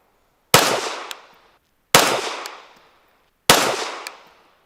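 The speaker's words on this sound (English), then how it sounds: "We're going to go ahead and shoot top left to get this guy zeroed in." Three sharp 9mm pistol shots are fired, about a second and a half apart, while a red dot sight is zeroed. Each loud crack rings out in a decaying echo, with silence between shots.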